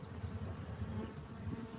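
Honey bees at an apiary hive, a steady close buzzing drone that holds evenly throughout with no voices over it.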